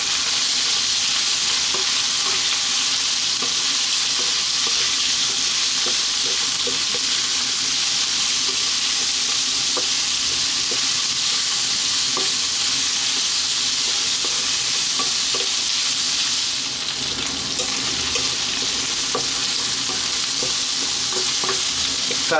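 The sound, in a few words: onion frying on high heat for lamb curry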